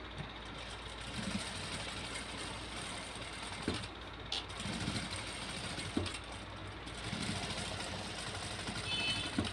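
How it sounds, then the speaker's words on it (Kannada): A sewing machine runs a stitching seam on a blouse. Its motor gives a continuous, fairly quiet whirring hum with a few brief dips and clicks as the stitching pauses and restarts. "ನಾನೀಗ ಮತ್ತೊಂದು ಸ್ಟಿಚ್ ಹಾಕ್ಕೊತಾ ಇದ್ದೀನಿ"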